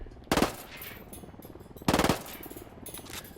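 A submachine gun fires in the shooter game Ghost Recon Wildlands: two loud, rapid bursts about a second and a half apart, each lasting a fraction of a second, over a steady background hum.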